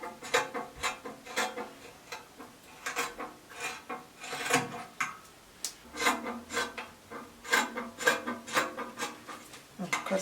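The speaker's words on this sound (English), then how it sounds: "First, I will cut out the back neckline." Scissors cutting through blouse fabric along the back neckline, steady rhythmic snipping and rustling close by at a low, quiet level.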